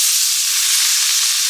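Meat sizzling in a frying pan on a home cooker, a steady loud hiss of frying with no other sounds.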